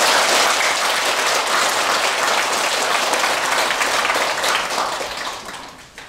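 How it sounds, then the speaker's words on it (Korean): A Buddhist congregation at a Wednesday dharma service gives a monk a big round of applause, dense sustained clapping from many hands that fades out toward the end, with no one speaking. "불자 여러분들께서는 모두 큰 박수로 스님을 환영해 주시기 바랍니다."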